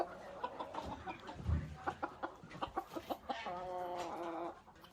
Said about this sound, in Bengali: এই যে দেশি রাতা এটা